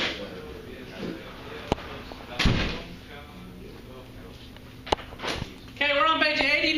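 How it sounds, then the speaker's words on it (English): A classroom back door swings shut with a single sharp slam partway through, amid room murmur and scattered thumps, with people talking nearby. "Will you shut that back door for me, McLean?"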